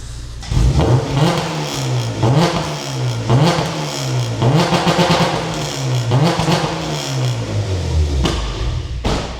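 A Honda K20 four-cylinder engine in a Civic EP3 Type R revs repeatedly through a loud modified exhaust, rising and dropping in several sharp bursts, close and without talk.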